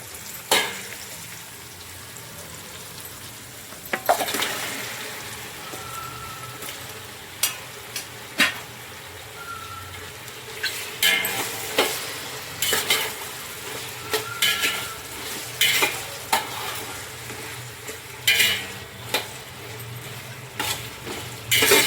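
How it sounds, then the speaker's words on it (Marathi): Goat mutton frying in oil with golden onion and tomato in a Kolhapuri-style curry, a steady close sizzle broken by repeated scraping and stirring knocks of a spoon against the pan, with no talk. "आता आपण असं आपलं मटण फ्राय केलेलं आहे तेलामध्ये"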